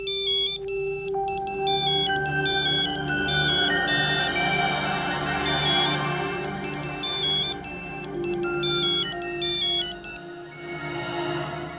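A melodic phone ringtone plays continuously, a bright repeating electronic tune with steady volume, alone without any voices.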